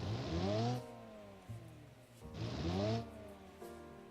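A car engine in the BeamNG driving game revving hard twice during a handbrake start, each rise climbing in pitch and then dropping back to a rumbling idle, close and loud.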